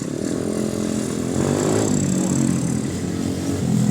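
Motorcycle engines rumble and rev nearby in Petropavlivska Borshchahivka, Ukraine, one bike swelling louder as it arrives, continuous and fairly loud.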